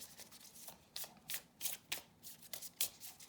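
Tarot cards are shuffled by hand in a quiet room, giving a series of soft, close riffling and slapping bursts at an uneven rhythm, with no voices.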